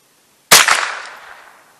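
A single sharp crack from a .22lr rifle firing a Remington Viper 36 grain solid into ballistic gel at 40 yards, loud and close, with a short ringing tail that fades over about a second.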